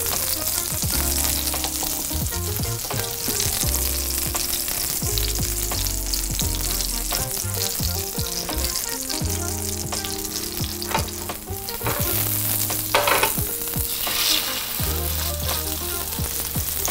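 Salmon fillets seasoned with black pepper and salt sizzle loudly and steadily in a hot pan of olive oil and butter, with occasional clanks and scrapes from moving the fish around.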